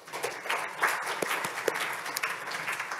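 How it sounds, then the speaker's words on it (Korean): A conference audience applauds after a presentation on an international greenhouse gas reduction project, steady dense clapping from many hands in a room, fairly loud and continuous throughout. "김영산 팀장님께 다시 한번 박수 부탁드리겠습니다"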